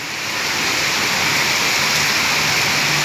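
Heavy rain pours down steadily in Surat, a dense, loud, unbroken hiss that swells in over the first moment and then holds constant, with no voices.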